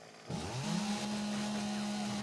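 A chainsaw in the survival video game 7 Days to Die revs up abruptly and holds a loud, steady buzzing drone for about two seconds with no talking.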